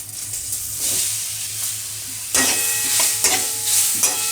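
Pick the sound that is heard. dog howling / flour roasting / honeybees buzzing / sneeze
flour roasting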